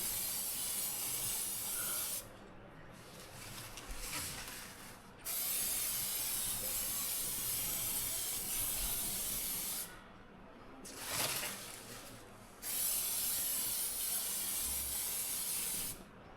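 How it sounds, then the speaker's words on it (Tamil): Silver spray paint hisses from an aerosol can onto a car wheel cap in steady, close bursts of several seconds each, separated by brief pauses with faint background noise. "சில்வர் கலரில் ஸ்ப்ரே பெயிண்ட் அடித்து அதுக்கு மேலே கிளியர் கோட் அடிப்போம்"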